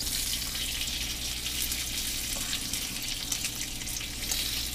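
Bacon frying in a pan while a breakfast cooks, giving a steady, close crackling sizzle that runs unbroken throughout with no talking.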